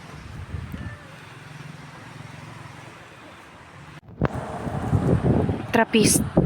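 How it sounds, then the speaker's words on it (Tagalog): Strong wind rushing and buffeting the microphone at the Trappist Monastery in Guimaras, a steady roar that swells louder in the second half, with people talking over it. "Grabe hangin, no?"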